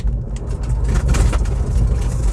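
A converted electric car accelerates at full throttle in second gear, a loud, close rush of low rumbling road and drivetrain noise that swells and holds with no engine revving.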